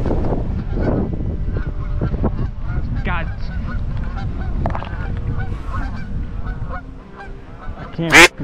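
Geese honk while flying over a golf course in Hanover, Pennsylvania: scattered calls at mid distance over a low background rumble, ending in a loud, close burst of honking.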